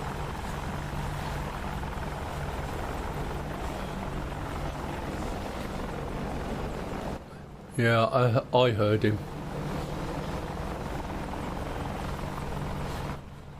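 The Shark (Ka-50) attack helicopter in the DCS World flight simulator gives a steady, loud rotor and turbine drone that continues throughout, with a brief voice speaking over it midway.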